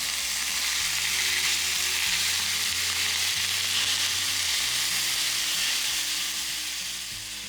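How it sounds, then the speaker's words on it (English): A pound of ground beef and onion browns together in a pan on the stove, a loud, dense and unbroken sizzle up close that eases slightly toward the end. "While that's browning on the stove"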